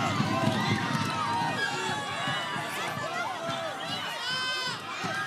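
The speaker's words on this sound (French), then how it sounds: "La foule est en délire." A studio crowd at the French TV show Loft Story cheers wildly, a dense roar of shouting, whistling and screaming voices that stays loud and constant throughout.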